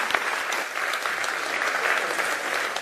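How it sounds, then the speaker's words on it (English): Warm, dense applause from a conference audience after a panel debate on equality, a continuous even wash of clapping with no voices over it. "give them a last round of applause"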